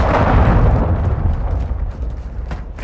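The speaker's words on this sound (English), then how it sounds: "Launched a cruise missile." A cruise missile strike in Call of Duty: Modern Warfare 2 multiplayer Team Deathmatch, a loud, deep rumbling explosion that rolls on for the whole stretch and slowly fades, with a faint burst of gunfire near the end.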